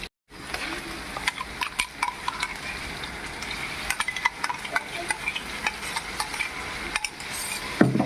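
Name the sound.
onions and ginger garlic paste frying in a pan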